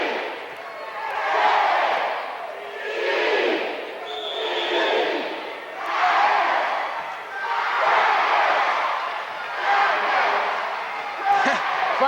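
A basketball crowd at a district championship game cheers and roars in rolling waves, loud and sustained, rising and falling every couple of seconds in a packed gym.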